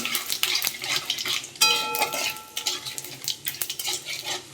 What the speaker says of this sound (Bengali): ফোড়নে দিচ্ছি গোটা জিরে আর দিয়ে দেবো কয়েকটা তেজপাতা আর দারচিনি